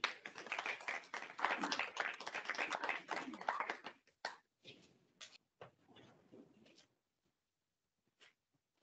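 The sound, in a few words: audience applause welcoming a speaker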